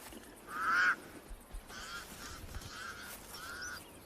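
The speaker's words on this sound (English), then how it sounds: "The pied crows sound the alarm again." Pied crows give harsh alarm calls in open desert country, one loud call near the start followed by several fainter repeated calls over a steady outdoor background.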